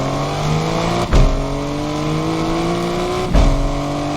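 Manual-transmission car engine revving under hard acceleration, pitch climbing steadily through the gear, with two abrupt shift breaks where the drone dips and restarts; loud, close and continuous, with no voices.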